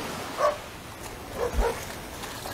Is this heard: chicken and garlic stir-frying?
no